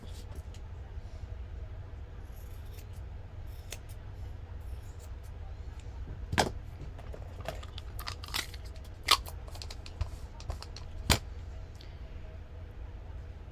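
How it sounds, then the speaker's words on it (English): Scissors give a beaded tassel a quick trim, a few short crisp snips standing out over a steady low background hum, close by and fairly quiet. "Might give it a little trim."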